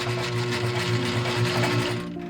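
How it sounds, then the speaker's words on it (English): A sewing machine runs steadily for a couple of seconds, stitching bra fabric several times over to lock a seam, with a close, even mechanical whir and hum that trails off at the end. "we're gonna sew this several times as well"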